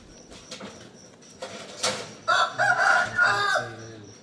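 A rooster crows loudly close by, a long strained call in the second half, with softer clucks and chirps from other birds before it.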